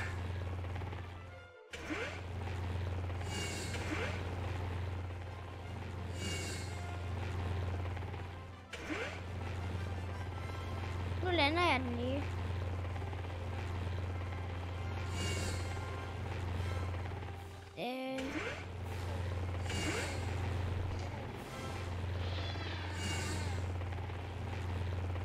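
A helicopter in a Minecraft game drones with a continuous low rotor hum that runs through most of the stretch, broken by a few abrupt cuts and sharp knocks, with no speech.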